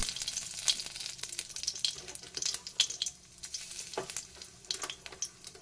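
Whole dried red chilli and cumin seeds temper in hot oil in a kadai for a Bengali cabbage kofta curry, giving a close, steady sizzle with scattered sharp pops and crackles and no talk.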